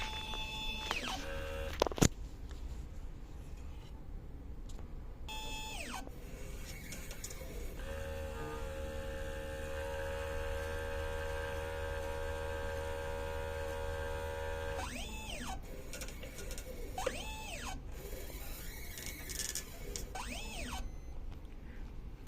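An inkjet printer runs a print head cleaning cycle: quiet motor whirs rise and fall in pitch, a sharp click lands early, then a long steady mechanical hum gives way to more sweeping carriage passes.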